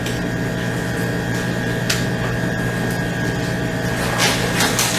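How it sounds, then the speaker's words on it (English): A vacuum packing machine sealing cured guanciale in a butchery setting gives a steady mechanical drone with a constant hum, a few sharp clicks and a brief hiss near the end, with no one talking. "now we've got our guanciale almost all vacuum packed"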